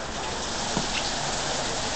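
A heavy rain storm in Calgary pours down as dense, continuous broadband hiss of rain hitting surfaces, steady and loud throughout with no voices.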